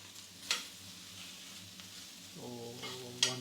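Tandoori chicken sizzles quietly on cast iron, a low frying hiss with two sharp metallic clinks and a humming tone entering near the end.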